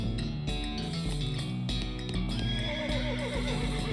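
Horse neighing in West of Loathing, a whinnying call with clip-clop hooves over a steady game music bed, close and fairly loud throughout.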